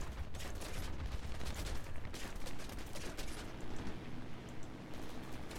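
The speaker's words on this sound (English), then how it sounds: "Now, let's get these 20mm FF cannons, see what they can do." Rapid bursts of 20mm MG FF cannon fire from an Ar 196 A-3 floatplane in War Thunder, a loud, dense rattling fusillade running continuously over a background engine drone.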